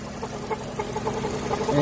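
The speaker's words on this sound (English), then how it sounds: "The engine is obviously vibrating quite a bit more than it was before." An Acura RSX engine idling roughly with the air conditioning on after a sharp idle drop, giving a steady close mechanical hum with faint periodic knocking pulses throughout.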